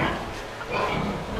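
Large first-litter sow grunting on a farm, a close, continuous rough low grunt lasting about a second and a half.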